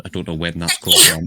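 A sneeze bursts out loud and close near the end, following a stretch of talking during a live tabletop role-playing game session.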